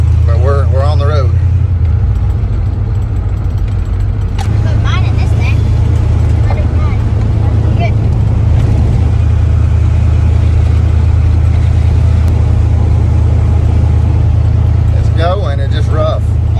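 An old Ford truck drives roughly down the road, its engine a steady loud low rumble throughout, with people talking over it.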